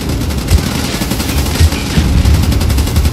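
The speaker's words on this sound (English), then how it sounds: "You're shooting me." Dense, continuous automatic gunfire from the Call of Duty: Black Ops shooter game, loud and close, with rapid repeated bursts running through the whole stretch.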